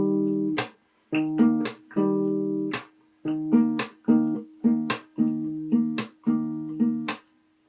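Fingerstyle acoustic guitar plays the pre-chorus of a song, clear plucked notes in short repeating phrases with brief gaps, close and alone.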